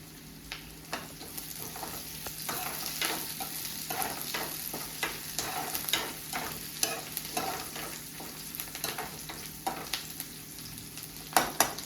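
A generous handful of curry leaves hitting hot oil, crackling and spitting up close in a dense, steady sizzle with sharp pops and stirring over about twelve seconds, no voices.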